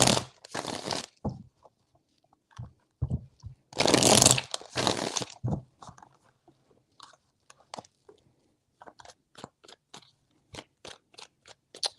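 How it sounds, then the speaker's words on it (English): Tarot cards are shuffled for an astrological reading, three bursts of riffling followed by scattered soft taps and flicks as the deck is handled, close and dry. "Three shuffles."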